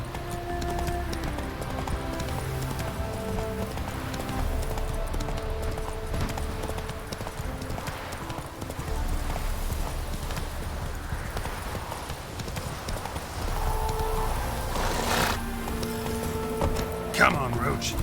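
Roach the horse gallops in The Witcher 3 with rhythmic clip-clop hoofbeats under game music and voices, ending with a whinny.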